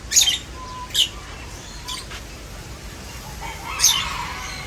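African lovebirds at a pet park let out a few sharp, high chirps in short bursts, separated by quiet gaps, over faint background noise.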